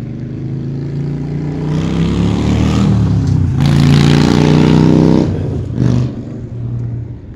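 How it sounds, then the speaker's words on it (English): A motorbike passes by outdoors, its engine droning and rising to a loud peak mid-clip before fading away, with no talking over it. "there's a bike in the background, I know."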